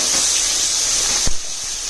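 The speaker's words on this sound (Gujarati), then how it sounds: "અને ટમેટાને પણ થોડી વાર સાંતળી દઈશું" A tomato sizzles steadily as it sautés in a hot pan, giving a loud, continuous hiss with one brief clatter partway through and no talking.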